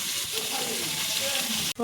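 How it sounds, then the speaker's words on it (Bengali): Carrots and capsicum frying in white oil, a constant close hiss and crackle of sizzling vegetables, ending with a brief sharp clatter of a utensil. "সাদা তেলের মধ্যে দিয়ে দিচ্ছে গাজর আর ক্যাপসিকামটা ভাজা করে নেবে সুন্দর করে"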